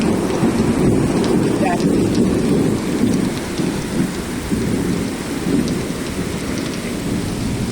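Heavy rain pours steadily, a dense close hiss drumming on surfaces, while low thunder rolls underneath and rises and falls without any break.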